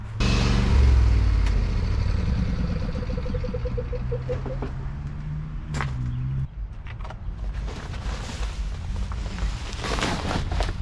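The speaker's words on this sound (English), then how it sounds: "Let's get the tractor and get it out here and get going." A lawn tractor engine runs steadily and loudly throughout, with a low rumbling drone that shifts in pitch partway through, plus some scattered clatter and knocks in the background.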